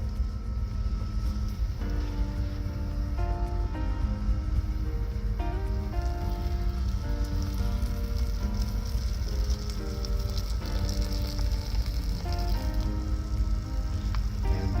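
Boiling water is poured into a Mountain House apple crisp pouch, giving a soft steady trickle and fizz with crinkly, irregular ticks from the pouch throughout, close to the microphone and without talk.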